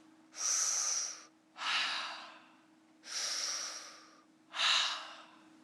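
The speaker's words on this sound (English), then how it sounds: "please breathe through your mouth" Mouth breathing during a breathwork session, four slow, loud breaths, each a drawn-out rush of air followed by a pause, close up with a steady low hum underneath and no talking.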